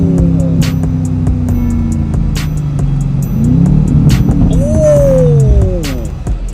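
A Chevrolet Camaro SS with a crackles-and-pops exhaust tune revs and drives close by, a loud throaty rumble that swells and falls, with sharp pops scattered throughout and a rising rev near the end.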